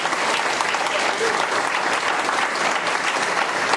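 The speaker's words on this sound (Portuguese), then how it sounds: "você pode dar um aplauso bem forte ao Senhor" A church congregation claps loudly and continuously in praise, a thick, even roar of many hands that holds from start to finish.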